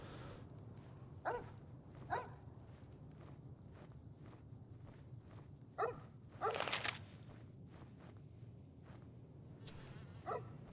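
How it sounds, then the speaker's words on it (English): A dog in the Fallout: New Vegas video game gives several short barks, spaced irregularly over a steady low ambient drone, with one louder, longer bark midway. "You're a very well trained dog."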